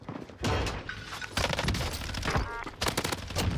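Gunfire in the video game Warzone, sharp rapid bursts of shots cracking in clusters with brief gaps between them, loud and close throughout.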